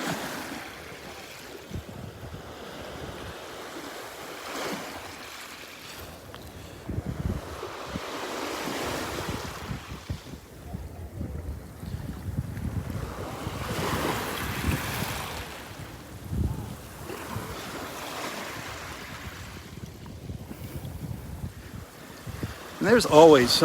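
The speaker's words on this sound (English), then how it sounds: "waves are breaking around the corner there" Ocean waves breaking on a beach at Delnor-Wiggins during a morning walk: a continuous surf roar swelling and receding in repeated surges, with wind buffeting the microphone throughout.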